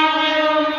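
A passing train's horn blares as one loud, steady, sustained tone lasting under a second, with no other sound alongside.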